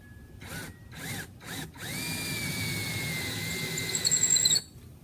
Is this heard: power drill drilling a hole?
yes